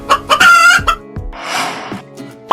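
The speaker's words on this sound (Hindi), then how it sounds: "This is hen." Domestic hen clucking and crowing loudly up close in short bursts, followed by a rough, noisy squawk and a final abrupt call, with no speech.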